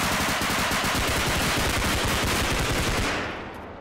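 Rapid automatic gunfire from a tactical shooter video game, a dense, loud, continuous burst of shots that fades out at the end.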